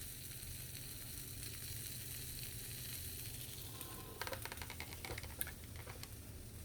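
Cheese-filled food frying in a pan, a steady, soft sizzle that hisses evenly throughout, with a patch of faint crackling and popping near the end; quiet and continuous, no talking.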